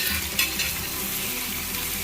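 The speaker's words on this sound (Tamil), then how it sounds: "இப்போ புதினாவை சேர்த்து நல்லா கிளறி விட்டு" Mint stirred into tomatoes frying in a pan for chicken biryani, a steady close sizzle with soft stirring scrapes, no voices.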